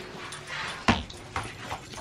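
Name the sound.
dogs playing, running for a thrown toy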